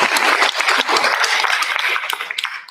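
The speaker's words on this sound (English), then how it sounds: "Another round of applause for our seniors from Lafayette School" Another round of applause breaks out for seniors from Lafayette School at a school board meeting, a brief burst of moderate clapping from the room that tapers off at the end.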